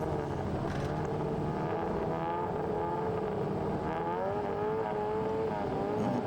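Historic sports racing cars rev their engines on the grid at the start of a race at Winton: a steady, loud blend of engine drone with rising and falling pitch, continuous throughout.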